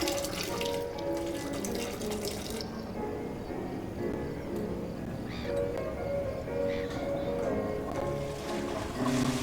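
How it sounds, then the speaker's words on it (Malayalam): A toilet being flushed in a bathroom in the horror video game Fear to Fathom, a steady rushing and gurgling of water running throughout at moderate level. "ഫ്ലഷ് ചെയ്തു."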